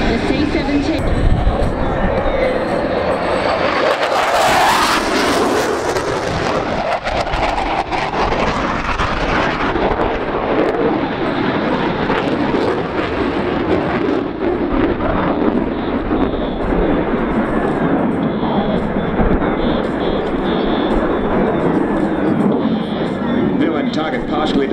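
F-18 Hornet jets at the Avalon Airshow 2017 roar loudly and continuously overhead, the engine noise swelling as a jet passes and then settling into a steady, broad rumble with faint crowd noise beneath.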